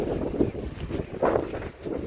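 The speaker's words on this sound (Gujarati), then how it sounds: "પવન અમારે અહીંયા બહુ જ માત્રામાં છે પવન." Strong wind gusts across an open farm field of brinjal plants, buffeting the microphone in uneven rushes that swell and ease, loud and close with no talking.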